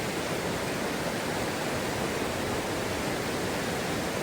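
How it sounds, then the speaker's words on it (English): Rushing water of the Dungeness River in flood after an atmospheric river, a dense, steady roar filling the whole span without pause, loud and close. "today I'm here on the Dungeness River"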